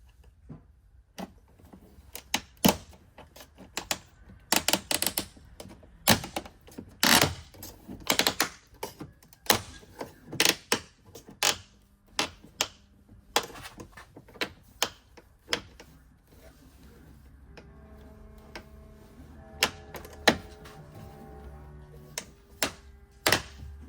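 A plastic trim tool prying the door panel clips loose on a Porsche Macan gives a long run of sharp, irregular clicks and snaps, close and crisp, with brief pauses between bursts and no talk.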